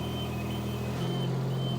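Reversing beeps from a lift being moved to shift a hoop shelter, a steady electronic tone pulsing in short bursts over a continuous engine rumble, close and fairly loud with no talking.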